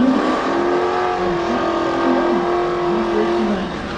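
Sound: Corvette and Camaro drag racing

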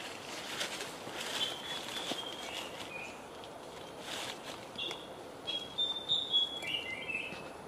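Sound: bird calling, likely an orange-bellied flowerpecker

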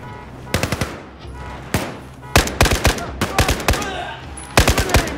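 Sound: gunfire in the video game Battlefield 4

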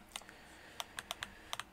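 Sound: computer keyboard clicking

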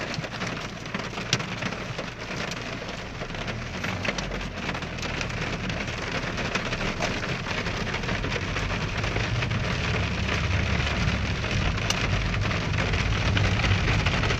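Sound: hail storm on a car

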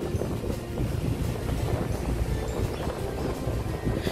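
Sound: boats at Dubai Marina boat safari area

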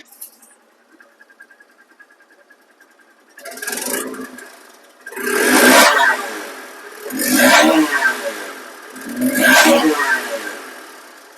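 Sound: Hero Hunk motorcycle engine running

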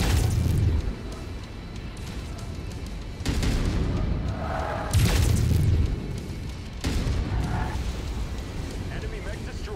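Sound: mech reactor explosion in video game Mechwarrior 5

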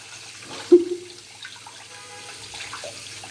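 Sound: running tap water while washing hands

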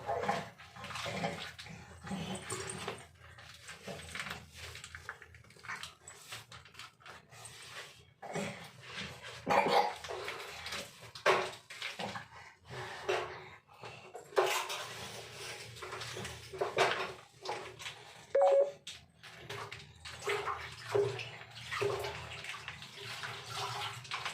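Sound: washing and cleaning with water

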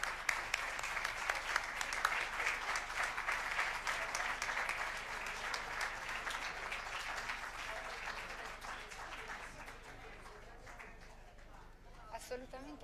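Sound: audience applause welcoming the professor

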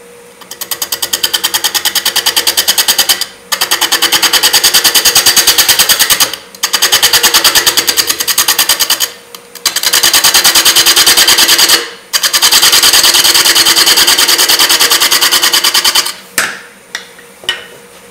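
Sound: lathe turning maple burl, cleaning up the surface

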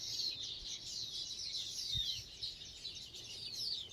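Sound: birds chirping in a garden

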